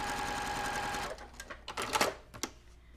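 Close up, a sewing machine re-stitches a seam in a steady whir for about a second, then stops, followed by several short clicks and handling taps.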